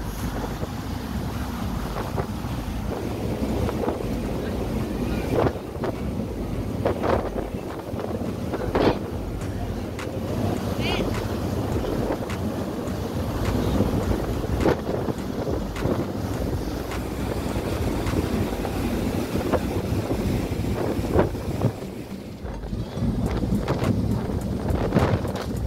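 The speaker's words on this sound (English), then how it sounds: "Very very windy also this time." Strong wind buffets the open deck of a large Port Phillip Bay ferry between Portarlington and Geelong, a steady roaring rush with microphone gusts over engine rumble and waves, continuous throughout.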